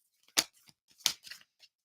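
Moonology manifestation cards being shuffled by hand: a few quiet, crisp riffling bursts, two sharper snaps standing out among softer flicks, close and alone.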